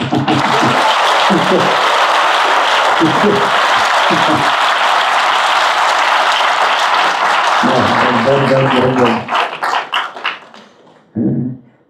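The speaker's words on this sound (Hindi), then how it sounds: "जोर से ताली बजाना पड़ेगा।" An audience at a Ramayana katha claps loudly and continuously, a dense roar of applause with bursts of a speaker's voice breaking through, then the clapping thins out and stops.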